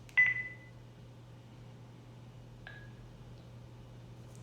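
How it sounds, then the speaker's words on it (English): A BT55 Bluetooth speaker microphone, paired with an Airbus TPH900, gives two short clear electronic beeps a couple of seconds apart over a low steady hum. "And you can hear the beep,"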